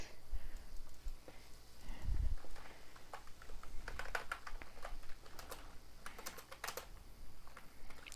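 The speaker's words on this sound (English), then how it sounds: "I don't know if they can hear my typing, but I'm typing very aggressively" Fast, forceful typing on a computer keyboard, a dense patter of sharp key clicks close by, quiet overall with a brief low thump partway through.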